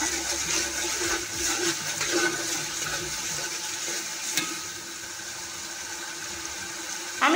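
Ginger garlic paste frying in hot oil in a pot after lightly fried onions, for a Bangladeshi plain pulao: a steady, moderate broadband sizzle that continues throughout with a few brief clinks.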